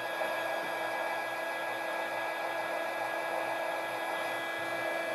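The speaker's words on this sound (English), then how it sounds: "So I'm going to go ahead and take my embossing gun." An embossing heat gun warming up for card making gives a steady, even blowing hiss with a faint hum, constant and close for the whole stretch with no talk.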